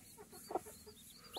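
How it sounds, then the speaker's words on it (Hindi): Baby chickens cheeping: two short, fairly loud chirping bursts, one near the middle and one at the end, over a low steady background. "ये यहाँ पर देख सकते हैं काफ़ी प्यारे प्यारे मुर्गी के बच्चे।"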